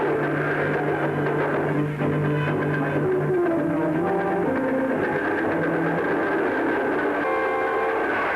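A train rolls past on a single track, its heavy rumble loud and steady throughout, with sustained horn-like tones sounding at intervals.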